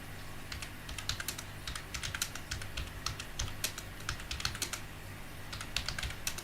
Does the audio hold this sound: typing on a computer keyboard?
yes